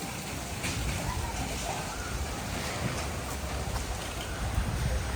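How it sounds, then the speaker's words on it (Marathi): Steady first-of-season rain falls in a dense, even hiss, close and moderately loud, with a faint murmur of voices underneath. "कारण पहिला पाऊस आहे"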